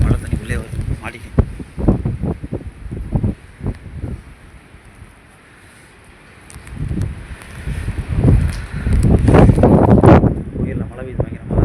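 Strong wind in heavy rain at a rooftop terrace during a downpour, loud gusts buffeting the microphone and rising and falling, with a quieter lull partway through.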